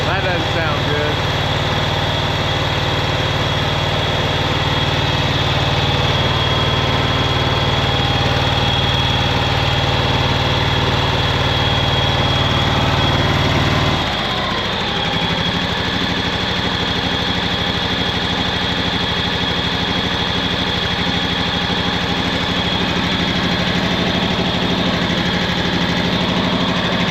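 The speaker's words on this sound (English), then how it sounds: "Sounds like it's missing a cylinder or something." A John Deere Z910 mower engine idles roughly as if missing a cylinder, a loud, continuous uneven drone close by that shifts pitch partway through, with talk faintly mixed in.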